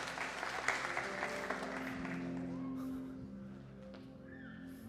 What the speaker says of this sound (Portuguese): Uma salva de palmas, por favor, aqui para os meninos aqui.